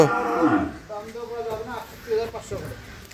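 Cattle at a market: a cow gives a drawn-out moo up close at the start, then lower lowing and bellows follow over a murmur of people talking in the background.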